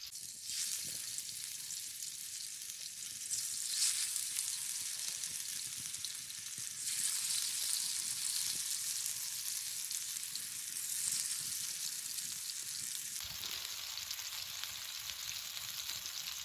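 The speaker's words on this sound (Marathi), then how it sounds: "हे चिकनचे तुकडे आपण कौलावर ठेवायचे हे तेलात थोडंसं बुडवते आणि इथे ठेवते" Chicken pieces dipped in oil sizzle and fry on a hot clay roof tile, a steady, close, loud crackling hiss that swells and eases through the whole stretch with no talking.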